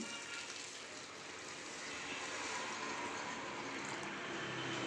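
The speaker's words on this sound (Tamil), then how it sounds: "தண்ணியை ஊற்றி" Water is poured into RNR Ponni rice in a cooking pot, making a steady, close, rushing gush that runs for several seconds with no talk.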